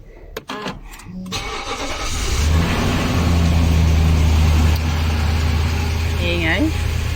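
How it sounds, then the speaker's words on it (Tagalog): A car engine cranks and catches after a few clicks, then settles into a steady, loud idle that holds; a brief high whine appears near the end. "Magpainit na tayo ng makina."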